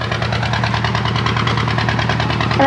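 A ferry boat engine pulling away from the ghat at Kumarpur on the Bhagirathi Ganges, a loud steady knocking diesel drone with rapid regular pulses, close and continuous, swelling slightly at the end.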